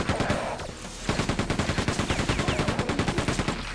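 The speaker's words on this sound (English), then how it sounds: "And here's a machine gun." The machine gun in the video game Quake 2 fires loud, rapid, evenly spaced rounds in a steady stream, with a brief break early on before the firing resumes.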